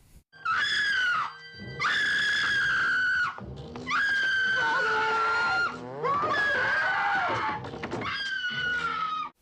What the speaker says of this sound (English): She starts screaming and shouting for no reason at all.